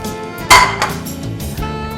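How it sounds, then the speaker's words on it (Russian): A frying pan is picked up in a kitchen while cooking, giving one sharp metallic clank followed by a softer knock and faint clinks, fairly close. "Мы берем сковородочку"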